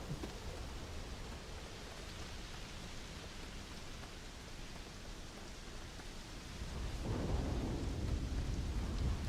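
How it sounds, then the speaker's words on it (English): Steady rain pours through a thunderstorm in Starfield, with a low thunder rumble swelling louder near the end. No voices are present. "Damn, just a bad storm."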